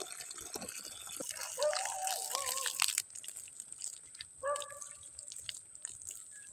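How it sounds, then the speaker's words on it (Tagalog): Water splashes and trickles onto freshly transplanted cabbage seedlings in a field, a close, gurgling pour with drips and a brief filling tone. "ganito yung pagdidilig. Dapat sufficiente yung tubig sa repolyo."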